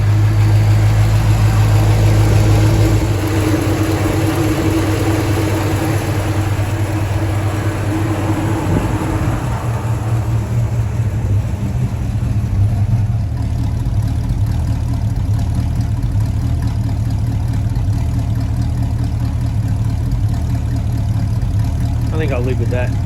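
A Holden HJ ute engine with a Holley carburettor idles slightly high and warm, a steady low rumbling hum throughout, its tone shifting slightly partway through, with faint background noise.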